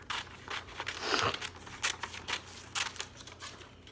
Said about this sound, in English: With your scissors, you're going to cut on that thick black line.